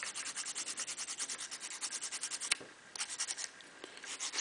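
Sandpaper or a nail file rubs the tip of a handmade knitting needle in quick, even back-and-forth scratching strokes, close and fairly quiet, with a brief pause midway.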